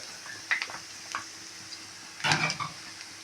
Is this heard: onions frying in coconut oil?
yes